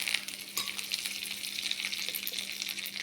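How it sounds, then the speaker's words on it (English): Mustard seeds and curry leaves sizzle steadily in hot oil for karam chutney, a dense continuous frying hiss with faint crackles and no voices. "Oil is hot. Now I am putting mustard seed,"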